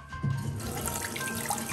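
Water running from a tap in a bathroom sink, a steady soft splashing stream that continues throughout with no voices over it.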